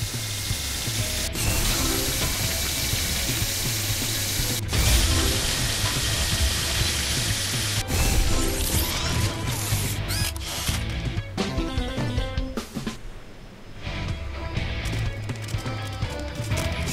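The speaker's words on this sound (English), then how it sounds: "Press X to hit the drill on the rocks." Drill striking rocks in the video game Paw Patrol: The Movie, a loud, steady mechanical rattling and ratcheting clatter with sharp clicking bursts, running without any voices.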